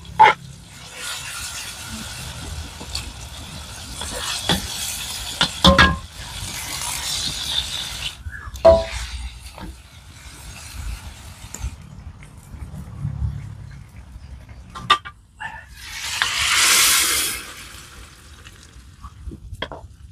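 Papait bitter greens sauté with sardines in a pan outdoors, with bursts of sizzling and scraping, clattering stirs coming and going. There are quieter gaps between them and a louder hissing surge near the end.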